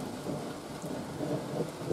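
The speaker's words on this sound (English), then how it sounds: "Fair bit of thunder, not much lightning yet, but a lot of thunder." Thunder rumbling during a rainstorm over a back paddock, a low distant rolling rumble under steady rain, faint and continuous.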